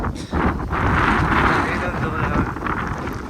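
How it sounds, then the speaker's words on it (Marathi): Strong wind on a hilltop among the clouds buffets the microphone in loud, roaring gusts that rise and fall without pause. "वारा बघितलात ना काय वारा."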